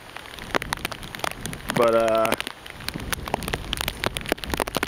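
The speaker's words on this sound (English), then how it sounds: "right now it's raining pretty decent." Steady rain from Hurricane Isaac falls in southern Alabama, a continuous patter of drops close by with a brief louder burst midway and someone speaking briefly over it.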